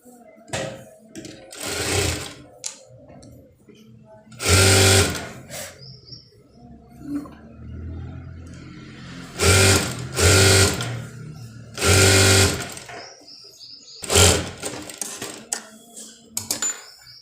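Sewing machine stitching a blouse, running in several short loud bursts of rapid whirring with quiet gaps and small clicks of handling between, close by.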